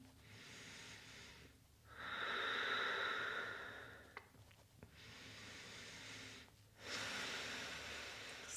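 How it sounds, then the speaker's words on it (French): Slow, deep breaths during a dynamic yoga flow, a long steady exhale followed by a fainter inhale, each drawn-out breath close and soft over a quiet room. "Encore 2 grandes respirations."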